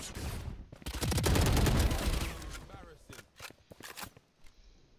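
Rapid gunfire crackles from the tactical shooter game Valorant, a dense loud volley in the first half followed by scattered single shots and clicks.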